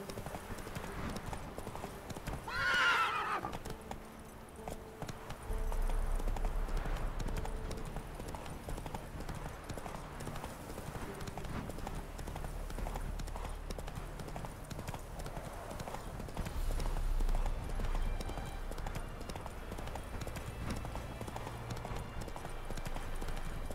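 Horse hooves clip-clopping at a steady gallop in The Witcher 3 video game, a continuous rhythmic beat over ambient game sound, with a brief whinny-like sound near the start.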